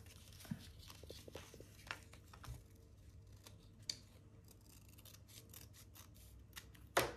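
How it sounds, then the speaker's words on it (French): Scissors cut through paper in a quiet room, faint snips and rustles scattered with a sharper click near the end. "Je vais découper encore un peu là."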